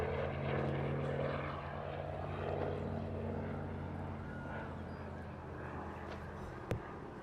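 Propeller fighter aircraft, an Iraqi single-seat variant, flying at Eastbourne International Airshow 2022, a steady droning engine and airscrew hum that slowly fades as it passes.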